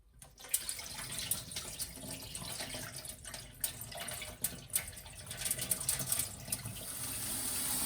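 Two cups of wheat grains are rinsed thoroughly several times under a running kitchen tap, with water splashing and trickling steadily and close by, rising in intensity toward the end, with no talking.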